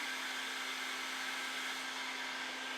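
Steady whooshing hum of a heat gun blowing hot air onto car wrap film on a Porsche, close and constant throughout with a faint tonal whine and no talking.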